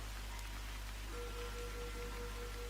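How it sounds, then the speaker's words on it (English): Steady rain falls outside at night in Andalusia during the rainy season, a continuous soft hiss of drops on surfaces heard from indoors, with a faint sustained tone running through the second half. "it's raining outside."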